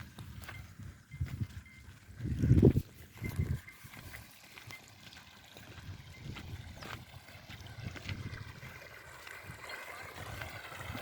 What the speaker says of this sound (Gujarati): પાણી એમ પાઈથી આવે.